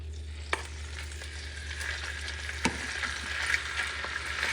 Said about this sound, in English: once it melts, you're going to add your ground camel